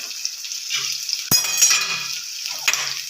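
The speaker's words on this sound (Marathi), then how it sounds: "छान असं ढवळून घ्यायचं बघा" Spices such as coriander powder, turmeric and garam masala stirred while frying in a pan, with a continuous sizzle, sharp scraping strokes of the spoon and a few metallic clinks, close up and without speech.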